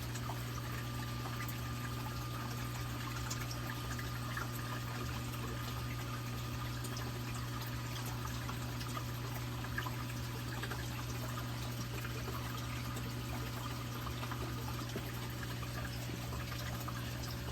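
Jebao DP-4 dosing pump running in manual mode to prime its line, a steady low mechanical hum with faint liquid trickling and pouring, continuous and even throughout at a moderate distance.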